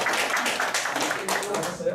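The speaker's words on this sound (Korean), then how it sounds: "박수." An audience at a Korean job-training lecture claps in quick rhythmic bursts, close and fairly loud, with voices overlapping the clapping throughout.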